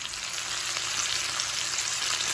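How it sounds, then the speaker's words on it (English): Steady, close sizzling and crackling of vegetables for a zucchini lasagna frying in a hot, sprayed pan, with no voices. "Listen to the sizzling."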